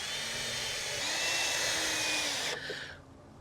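A framing power tool snugs bolts on a frame with a steady, high whirring whine that holds for a few seconds, rises slightly, then cuts off and winds down, close and loud.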